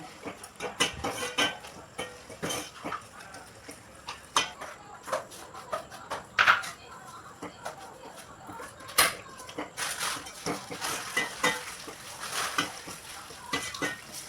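Egg fried rice tossed and stirred in a pan, a repeated series of quick scraping and clattering strokes with a faint sizzle underneath, fairly quiet and close.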